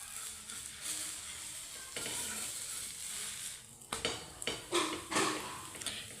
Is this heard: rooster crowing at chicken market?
no